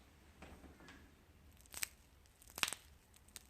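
A dry cigar is squeezed and crushed by hand, giving faint rustles followed by two sharp, crisp crunching crackles up close in a quiet room.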